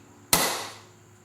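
A single sharp metallic strike of a center punch marking a metal workpiece for drilling, close and crisp with a short decaying ring and no voices.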